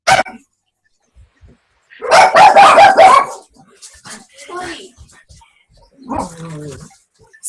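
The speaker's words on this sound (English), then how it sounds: "my dogs were going crazy" Dogs barking excitedly in a loud, dense burst of overlapping barks lasting about a second, with yips and whimpers around it, while people talk before and after.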